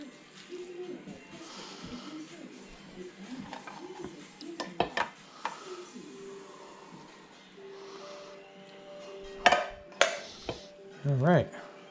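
A spoon works through a bowl of cornbread stuffing with sausage and broth, giving soft wet stirring with a few sharp clinks against the bowl, under light talk.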